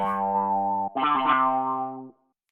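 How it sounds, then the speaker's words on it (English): Two short clavinet notes from the Elements of Soul instrument, bright and twangy with a slight effect sheen, the second phrase buzzing briefly before cutting off. "Clavinet."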